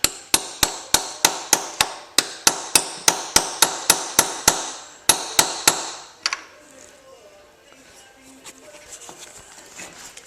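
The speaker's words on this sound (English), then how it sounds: "using a hammer and a chisel, and I'm slowly tapping this washer flat" Hammer driving a chisel to tap a washer flat during sprocket removal on a 2008 Kawasaki ZX6R, about sixteen sharp metallic strikes in an even rhythm, close and loud, then quiet workshop background.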